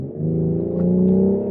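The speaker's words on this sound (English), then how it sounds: "I hear the exhaust sounds so beautiful" Exhaust of a BMW X3 M40i in Sport mode: a steady, smooth low drone from the engine under light throttle, fairly loud and close, with no talk.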